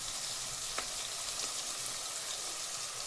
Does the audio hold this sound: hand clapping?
no